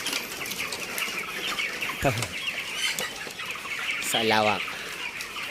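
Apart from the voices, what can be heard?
45-day-old chickens clucking and flapping in poultry house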